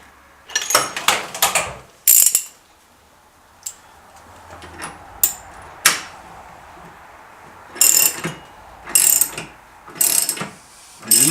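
A 1/2 inch drive ratchet with a 22 mm socket works on a motorcycle in a workshop, sounding in several quick bursts of sharp metallic clicking separated by short pauses, close and clear with no talk.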